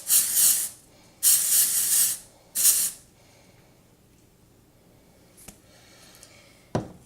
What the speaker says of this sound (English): I have sprayed the crap out of my hair